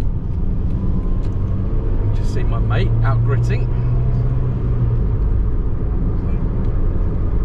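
Nissan Micra K11 with its CG10 engine running while driving, a low, steady road and engine rumble from inside the car that stays constant throughout, with someone talking briefly over it.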